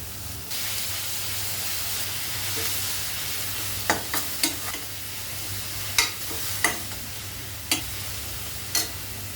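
Ground masala tipped into fried onions in a hot pan for raw jackfruit curry, a steady sizzle followed by a series of sharp, close scraping strokes from a spoon against the pan at irregular intervals, no talking.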